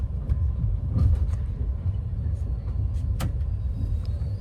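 A train departing Bareilly Junction railway station, heard from inside as a steady low rumble of wheels and carriage, with light clanks and rattles and faint background voices.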